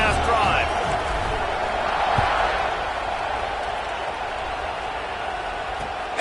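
Stadium crowd noise from the college football video game CFB26, a dense continuous roar of fans with a swell of cheering near the middle, loud throughout and steady to the end.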